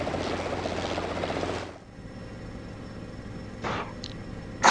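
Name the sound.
helicopter engine in video game ArmA 3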